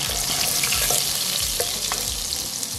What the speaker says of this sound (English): for this next stage, I'll drop in the butter